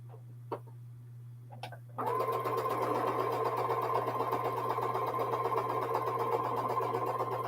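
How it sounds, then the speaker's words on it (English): Sewing machine chain piecing fabric strips: after a couple of soft clicks, the motor starts and stitches in a fast, steady, rattling run that holds close and constant over a low hum. "I'm chain piecing those and get this last one."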